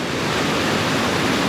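A waterfall at Glencoe pours in a loud, constant rush of water, a dense roar close by with no voices.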